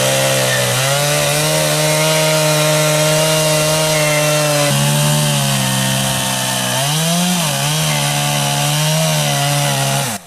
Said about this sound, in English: a chainsaw is brought in to make long, deep longitudinal rips running down the multi-meter length of the trunk